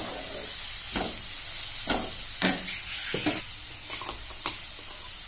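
Ground spices including red chilli powder and roasted cumin powder frying in a pan, a steady loud hiss of sizzling broken by several distinct scraping stirs of a spoon.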